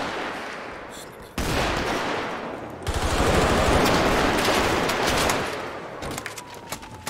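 Rapid AR rifle fire in a shooter video game, dense sustained bursts that surge loudly after a quiet opening and continue with overlapping shots, ending in scattered cracks.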